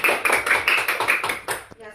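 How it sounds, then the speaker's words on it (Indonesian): Schoolchildren clap their hands together in a classroom, a short burst of close, uneven claps lasting under two seconds with children's voices mixed in. "Tepuk tangan dulu."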